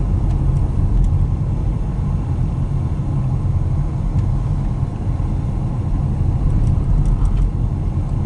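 A car cruising along a road, with a loud, steady low engine drone and tyre rumble heard from inside, continuous and even throughout, with no one speaking.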